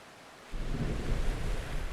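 Steady rain in the video game Voyagers of Nera swells in as a dense, even hiss with a deep rumbling low end like distant thunder, continuous and fairly soft throughout.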